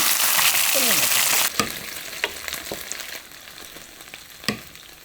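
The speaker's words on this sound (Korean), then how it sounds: "노릇노릇하게 한번 구울 거예요." Dried pollock pan-frying until golden: a loud, dense sizzle at first that drops to a softer crackle, punctuated by several sharp pan and utensil clicks.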